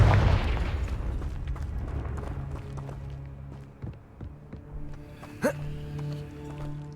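A Confringo fire spell bursts with a loud booming explosion in Hogwarts Legacy, followed by scattered thuds, crackles and a sharp whooshing flare amid game ambience.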